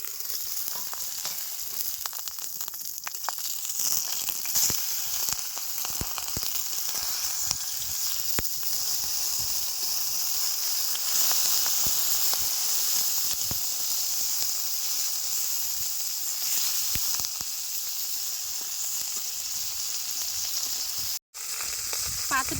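Brinjal and prawn paturi fry in a pan with a steady, loud, close sizzle and hiss that continues without break, with faint stirring.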